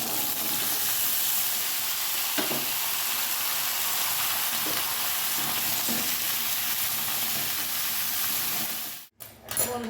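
Vegetables, bitter gourd and potato with grated ginger, fry in a pan with a steady, close sizzle and hiss throughout, ending in a brief stirring clatter.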